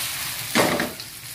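Salmon belly pan-frying slowly in oil, a close, even hiss of frying fat with a brief louder crackle as the fish shifts in the pan.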